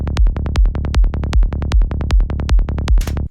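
Psytrance kick drum thumps steadily on each beat while a rolling Serum bass line fills the gaps between hits, loud and driving, ending in a brief noisy sweep.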